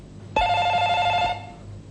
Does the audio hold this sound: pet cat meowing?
no